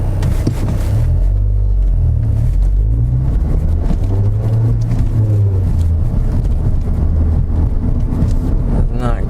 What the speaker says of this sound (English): Trying to burnish the brakes